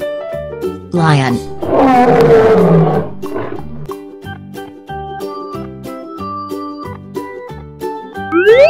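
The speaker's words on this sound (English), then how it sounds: "Lion." A big lion roar, growling and rough, lasts about two seconds against cheerful children's background music with plinking tones.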